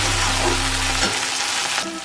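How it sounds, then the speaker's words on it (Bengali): Tomato and green chili drop into hot oil and fry with a loud, steady sizzle and a few stirring sounds, close and without any speech. "এবার দিয়ে দেব টমেটো আর কাঁচা লঙ্কা, ওটাও একসঙ্গে দিয়ে দেব। তারপরে ওটাকেও ভেজে নেব ওর সঙ্গে।"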